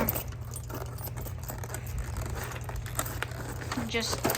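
A large bunch of keys jangling during installation of a fire alarm pull station: continuous close metallic rattling and clinking, with brief crinkly handling noises mixed in.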